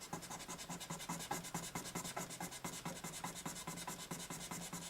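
Sandpaper rubs back and forth over a rosewood guitar fretboard in a steady, fast rhythm of short rasping strokes, close and fairly quiet, with no talking.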